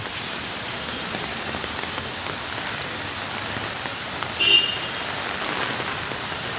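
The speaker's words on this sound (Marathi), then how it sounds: "जबरदस्त पाऊस चालू आहे" Heavy rain pours down in a constant, dense hiss, with a brief faint chirp partway through and no talking.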